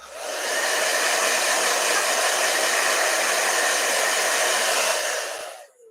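A blow dryer runs steadily close by while drying paint on a miniature figure, a loud even whoosh that starts abruptly and cuts off near the end, with no talk.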